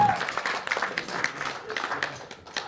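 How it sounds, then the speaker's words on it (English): Wedding reception guests clap and applaud steadily after speeches, a dense, moderately loud patter of hands with a murmur of voices mixed in throughout. "Let's give him a huge round of applause, ladies and gentlemen."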